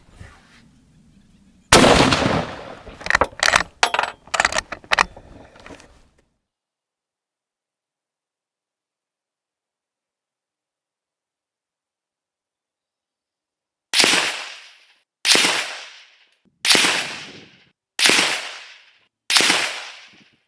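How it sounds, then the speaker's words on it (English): Five loud shots from a Lee Enfield No.4 Mk1* .303 rifle firing Federal 180 grain ammunition, spaced about a second apart with sharp cracks and short decays, after a burst of earlier handling clatter and a long silence. "So we'll just use the Federal 180 grain ammo, and I'll put 5 shots down range."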